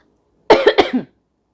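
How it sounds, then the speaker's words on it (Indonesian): A single short burst of coughing, three or four quick hacks close to the microphone, surrounded by silence. "kok batuk"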